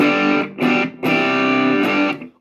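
Boosted electric guitar through a Boss DS-1W distortion pedal: a few thick, saturated chord stabs in quick succession, loud and close, with a final ringing chord that cuts off sharply.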